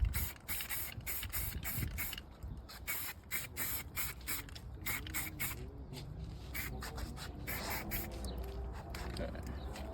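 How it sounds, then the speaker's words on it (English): A spray paint can hisses onto a concrete block to mark a cut line while laying out window openings, firing a rapid series of short, sharp, close bursts in an uneven rhythm. "I want to spray it with some paint"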